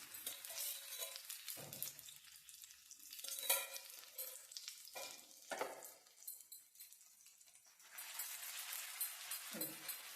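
Food sizzles and crackles in hot oil in a pan, a steady frying hiss that swells and eases, broken by a few louder stirring scrapes and clatters, with no voices.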